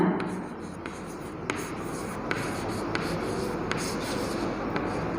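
Writing on a classroom board during an English grammar lesson for young children, heard as a steady scratchy texture with a few light taps and clicks, fairly faint and with no voices.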